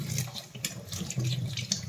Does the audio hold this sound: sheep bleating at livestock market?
no